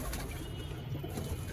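Pigeons cooing in a home pigeon loft: soft, low coos repeat steadily against a faint rustle of birds, close by and with no talking.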